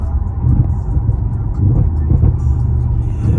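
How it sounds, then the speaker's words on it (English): An Audi RS6 C7 engine downshifts with a deep, rumbling burble that swells and settles, heard close from inside the car for a few seconds without speech. "like those downshifts"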